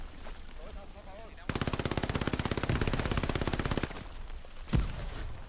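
A machine gun fires a long, rapid burst of evenly spaced shots in the video game Hell Let Loose, loud and steady, set in a World War II trench battle at Kursk, with background noise and a heavy thump after it.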